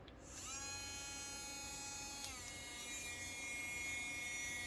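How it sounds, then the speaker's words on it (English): A small high-pitched rotary drill with a fine bit drills into resin, whining steadily and close, holding a constant buzzing tone with a slight dip in pitch midway. "And you just need a really fine drill bit or one of the filing burrs"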